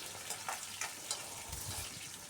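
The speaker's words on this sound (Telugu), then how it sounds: "ఇక్కడ ఉల్లిపాయలు, ఎండుమిర్చి, కరివేపాకు ఇవన్నీ వేసేసి మంచిగా చిన్న మంట మీదనే ఫ్రై చేసుకోవాలండి తాలింపు అనేది." Onions, dry red chillies and curry leaves fry in oil over a low flame for a tempering, a soft, steady sizzling hiss with faint crackles, quiet and close.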